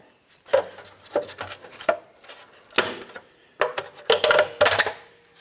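A hubcap is pried and pulled off a 2010-2013 Nissan Versa wheel with a series of sharp, uneven plastic clacks and rattling knocks, close by and without talk.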